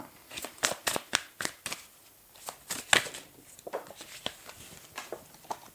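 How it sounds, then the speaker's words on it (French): An oracle card deck being shuffled by hand, a quick run of crisp riffling snaps and flutters, close and fairly quiet, then a pause and a few slower card slides as one card is drawn. "Je vais prendre une autre carte, voyons voir."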